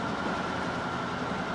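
A train in the Transport Fever video game rolls steadily with a dense, continuous rumble and rushing noise, loud and unbroken throughout.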